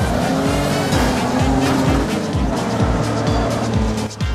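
Engine revving and tires squealing in the Wreckfest racing game, a loud sustained roar with rising and falling pitch sweeps and skidding throughout, no talk.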